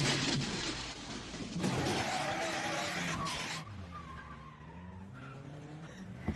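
A cartoon car races and skids in a chase, with loud tire squeals and engine roar for the first few seconds, then a fainter rumble under excited voices.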